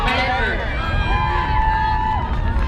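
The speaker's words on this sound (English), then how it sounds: "We now have a crowd that is standing up and cheering for this one" A track meet crowd stands and cheers in a steady roar of voices through the stadium, with a loud, continuous wash of shouting and one prominent voice rising and sustained above the rest.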